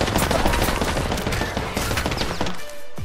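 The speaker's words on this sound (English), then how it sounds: "What is he shooting me with?" Rapid automatic gunfire in the video game Apex Legends, loud dense bursts of shots filling the moment with a brief pause near the end.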